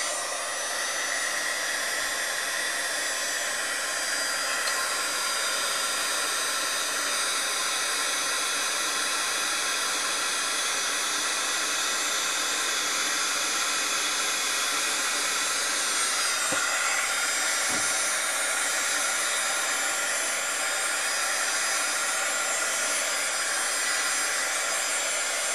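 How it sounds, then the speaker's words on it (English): A heat gun runs continuously for heat embossing, giving a loud, steady blowing roar like a hair dryer that stays close and unbroken throughout, with no speech. "And this is just how I like to heat, emboss."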